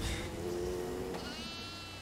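A goat in the horror video game Devour gives one drawn-out, quavering bleat, clear and moderately loud against a quiet game background.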